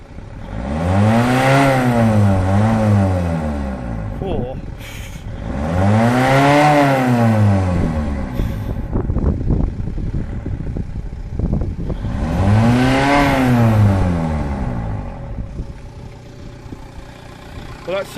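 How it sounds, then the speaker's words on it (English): A car engine revs repeatedly after an EGR cleaning treatment, three long rising-and-falling revs separated by quieter idle, close and loud, while smoke comes from the exhaust. "we're going to give it a little bit of a rev to see what we get out the back of it"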